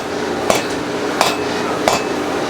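A hammer strikes iron at a blacksmith's forge in three evenly spaced, ringing blows over a steady background hum.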